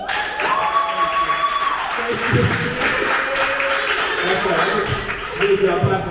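An audience at a poetry showcase claps, a wash of applause running beneath a voice that carries on talking throughout.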